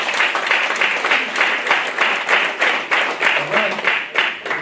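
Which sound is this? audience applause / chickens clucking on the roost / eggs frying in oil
audience applause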